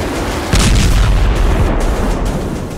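Missile attack explosions: a continuous heavy roar of booming blasts and rumbling impacts that swells abruptly after half a second and stays loud, with no speech.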